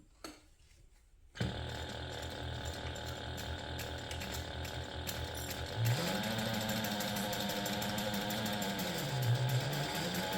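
A sewing machine stitches a handbag's drop-in lining with a 3/8 inch seam allowance, starting after a brief quiet moment and then running steadily and close, its whirring motor pitch rising and dipping slightly partway through.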